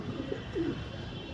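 Soft pigeon cooing, a couple of low murmuring coos close by against a quiet background.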